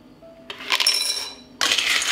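Dry pasta pours into a glass jar, producing a brief rattling clatter of hard pieces against glass. A second louder burst follows after a short pause.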